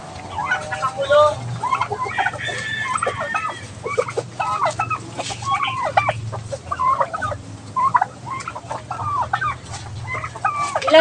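Chickens cluck again and again in a pen where they are kept confined, with frequent bird calls across the whole stretch over a steady low rumble, moderately close.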